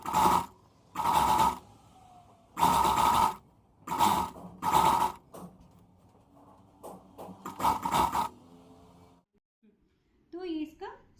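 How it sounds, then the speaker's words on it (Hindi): Overlock machine stitching along the waistband seam of a pleated pant, in several short loud bursts separated by pauses, with a voice speaking briefly near the end. "वहाँ पे आपको ओवरलॉक कर देना है।"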